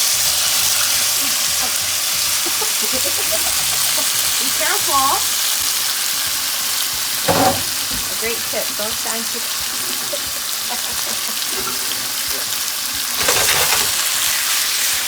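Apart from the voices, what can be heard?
chicken sizzling in hot olive oil in a pan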